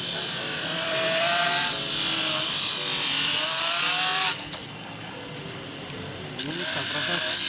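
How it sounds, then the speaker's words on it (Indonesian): A machine grinds small cut blocks of agarwood into round beads, giving a steady, harsh buzzing whine that shifts in pitch partway through and then resumes, close and continuous. "Ini proses pembentukan butiran atau dibentuk bulat"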